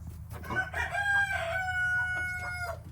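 A rooster crows loudly nearby in one long, drawn-out call with rising and falling harmonics, over a low steady background hum, on a rainy day in a garden.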